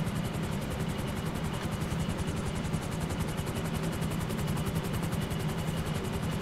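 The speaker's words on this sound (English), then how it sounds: "The only danger here is that I crash the helicopter." Helicopter flying in GTA 5 Online, its rotor chopping in a fast, steady thump under a constant engine whine, close and unbroken.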